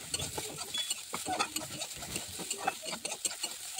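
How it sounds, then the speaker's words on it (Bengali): Grated coconut sizzles and scrapes in a pan, stirred steadily for semolina barfi, a continuous close crackle broken by repeated utensil strokes, with no talk. "এবার নারকেলগুলো আমি ভেজে নেব"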